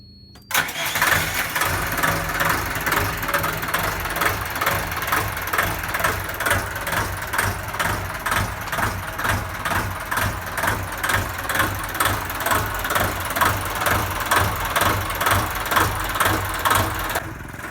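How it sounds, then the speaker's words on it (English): A boat engine starts and settles into a steady idle, a rhythmic low chugging that runs on evenly and loudly. "So let's run the engine."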